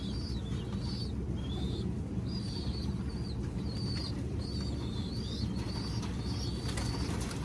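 Pigeons coo softly and repeatedly, with blue bar birds among them, over a steady background of rustling and flapping wings, with no talking heard.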